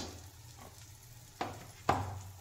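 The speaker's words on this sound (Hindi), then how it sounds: "नमक और इस मसाला को अच्छे से फ्राई कीजिए" Masala spices with garam masala powder and kasuri methi frying in a pan for a baby potato curry, a steady low sizzle with two sharper stirring scrapes near the end.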